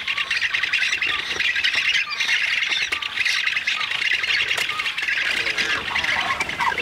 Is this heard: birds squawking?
yes